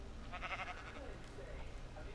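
Blocky Minecraft sheep bleat in a tree, short wavering bleats, one prominent call early then softer ones, faint and under quiet talk.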